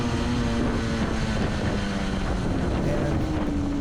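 1967 Yamaha YL1-E Twin Jet 100 two-stroke motorcycle engine winding up while riding, a steady buzzing drone with rising and falling pitch under heavy wind rush on the microphone.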